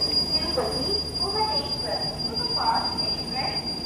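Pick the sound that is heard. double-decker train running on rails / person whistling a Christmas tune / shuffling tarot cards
double-decker train running on rails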